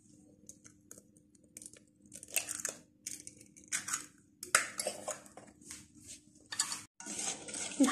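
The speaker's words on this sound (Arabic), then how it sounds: "نحركهم حتى لين تتحل هذيك حبة البيض ويتحل النشا كله مع بعضهم" A spoon stirs eggs and starch together in a pot for Tunisian zgougou asida, with soft scraping swirls and light clinks against the pot, rising and falling in several bursts.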